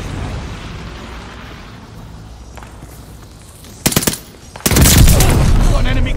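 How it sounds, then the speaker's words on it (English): Mortar barrage explosions in Call of Duty: Vanguard, a short burst of sharp blasts after a quieter stretch of low battlefield rumble, followed by a loud sustained roar of detonations near the end. "Need a better spot for the mortar barrage."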